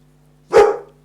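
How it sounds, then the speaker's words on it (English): A dog gives a single sharp bark, close and loud, rising abruptly over a steady low hum and fading quickly. "I'll keep barking and my owner might let me out too"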